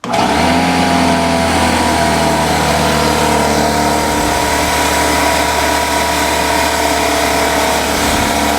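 An air compressor motor powered by a VTOMAN Jump 600X portable power station runs loud and steady, a continuous mechanical drone with a humming tone that never lets up.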